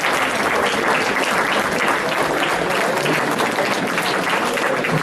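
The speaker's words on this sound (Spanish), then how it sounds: "yo sí les pido que les demos un aplauso a los de La Boca Nueva" Sustained applause from an audience at a school or institutional event, dense and steady throughout without a break, loud and close, with no voices standing out.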